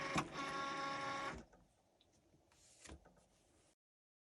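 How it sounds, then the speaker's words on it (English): A Cricut Maker cutting a name into vinyl gives a close mechanical whir for just over a second, followed by quieter faint movements and a brief second whir. "now the name is printing that we want onto the vinyl"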